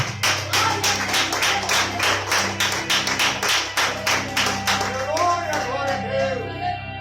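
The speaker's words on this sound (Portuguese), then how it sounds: "Bate palmas para Jesus" A church congregation at a worship service claps hands in a steady rhythmic beat, loud and even, over low music, with a voice joining near the end.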